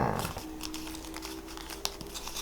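Sheet of paper crinkles and crumples as it is folded top to bottom for an origami ninja star, a steady close rustle with a few sharper creases.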